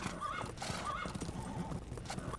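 Horse archers' horses in the Age of Empires video game, two whinnies over a steady clatter of hooves, moderately loud, with no talking.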